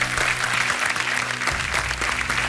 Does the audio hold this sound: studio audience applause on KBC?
yes